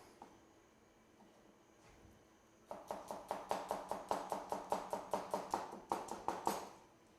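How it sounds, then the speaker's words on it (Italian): Knife slicing a red onion julienne on a cutting board: after a quiet start, a quick even run of crisp chopping taps, close and distinct, about two per second. "Prendiamo la cipolla e la taglieremo a julienne."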